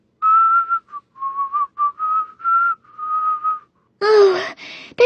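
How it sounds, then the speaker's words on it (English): A person whistles a melodic tune in a series of clear, sustained notes and short phrases, then a brief noisy burst follows at the end. "and began whistling."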